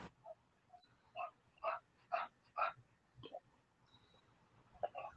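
A bulldog gives a series of short, faint grunting barks and whimpers in an uneven rhythm, several close together and then a few scattered ones after a pause.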